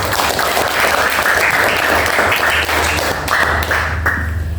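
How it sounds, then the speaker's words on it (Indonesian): Classroom of students applauding together after a correct answer, a steady dense burst of clapping filling the room for several seconds with no talk over it. "Tepuk tangan semua."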